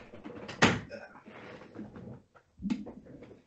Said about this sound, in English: my dog just decided to open the door